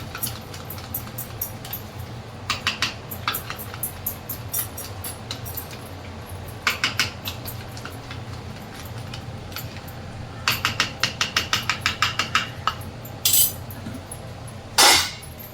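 A spoon beats curd in a bowl, giving quiet bursts of rapid clinking taps with pauses between them, plus a few sharper knocks near the end.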